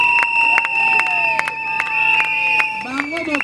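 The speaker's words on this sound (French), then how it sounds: "Est-ce qu'on peut applaudir pour le couple?" Guests clapping for a couple at a civil wedding ceremony, sharp hand claps mixed with lively crowd chatter, cheering and music, loud and close.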